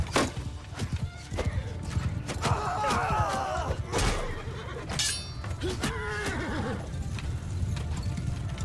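Horses neigh and whinny in the Mount & Blade II: Bannerlord video game, several loud calls spaced over a few seconds, with hooves clip-clopping and thuds in the background.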